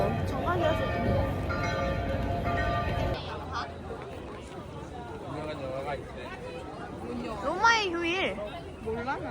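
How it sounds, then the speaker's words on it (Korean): Church bells ring the six o'clock hour in Rome, a steady resonant peal under close chatter and a busy outdoor crowd, with people talking throughout. "여기서 종이 울리는데? 저기서 종이 울리는 건가 봐."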